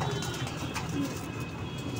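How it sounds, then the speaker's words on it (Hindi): A banded white pigeon coos softly and close by in a short, low, murmuring burst over a steady background hum. "पट्टी वाला कबूतर है, ये मैं दिखा देता हूँ आपको।"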